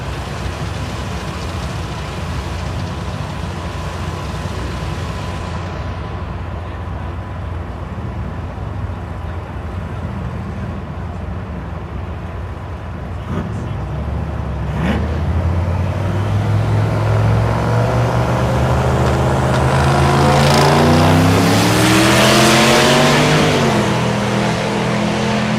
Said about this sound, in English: Right lane's Eric Wilson, the 54 International